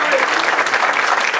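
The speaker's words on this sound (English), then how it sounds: "Let's give our dear brother, student minister Tracy, a round of applause" An audience gives a round of applause, dense and loud clapping filling the short span without a break.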